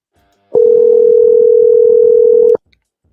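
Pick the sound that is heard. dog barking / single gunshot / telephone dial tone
telephone dial tone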